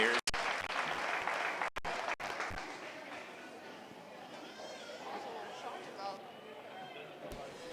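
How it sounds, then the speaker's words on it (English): An audience at a 4-H dairy goat show breaks into applause, with a burst of dense clapping at first that fades into scattered claps and crowd chatter. "Let's give these exhibitors a big round of applause,"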